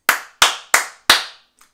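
Four crisp hand claps in a steady, even rhythm, recorded up close, then silence.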